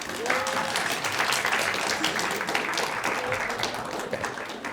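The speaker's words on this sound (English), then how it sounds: "You can clap." Audience applause at a school Black authors and artists event after a recited poem, a steady wash of clapping at moderate distance throughout, with faint voices mixed in.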